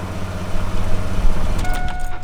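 An engine runs steadily at normal idle after a repair, a close, even rumble with a faint tonal whine appearing near the end.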